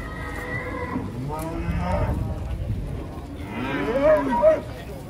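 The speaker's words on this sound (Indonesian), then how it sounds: "Sapi unik pagi ini." Very large cattle moo in a few long, low calls, fairly close, at a livestock market, with faint talk and market noise around them.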